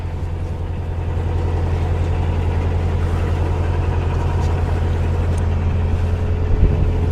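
Steady low car engine drone at about 1,000 rpm, a constant rumbling idle that holds evenly throughout with a slight swell near the end.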